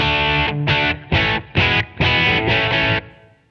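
Brit high-gain amp model on a Line 6 Floor Pod Plus driving a distorted electric guitar, a handful of loud, separate chord stabs with short gaps and a final held chord that decays.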